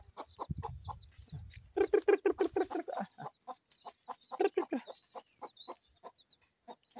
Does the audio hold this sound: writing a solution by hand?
no